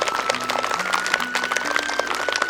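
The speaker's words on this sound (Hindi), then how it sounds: "इसलिए अपने लिए एक बार जोरदार ताली बजाइए" Schoolchildren at a school International Yoga Day event clapping together, a dense, steady burst of applause from a large group at close range, continuing throughout with no voices on top.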